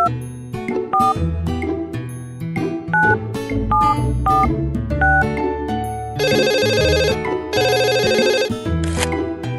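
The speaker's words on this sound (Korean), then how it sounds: "숫자를 눌러 병원에 전화를 걸어주세요." A phone rings while calling the hospital in a Tayo children's vehicle-repair game, with a bright synthesized ringtone melody of stepped beeps followed by two dense trilling ring bursts, loud and steady with no voice.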